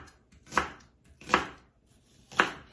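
A knife chops through a whole onion in three separate, evenly spaced strokes, each a sharp close thud on a board with quiet gaps between.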